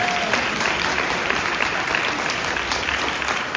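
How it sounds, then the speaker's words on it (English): Audience applause at a fan convention panel on building Godzilla '54 and Ultraman suits, a dense, steady wash of clapping from a crowd that fills the room at a constant loud level. "let's give these guys a round of applause."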